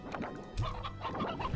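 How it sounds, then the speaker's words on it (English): Chickens cluck in the video game Slime Rancher, a busy flock of game-animal squawks and clucks repeating in short bursts at moderate loudness, without speech. "And a whole bunch of chickens."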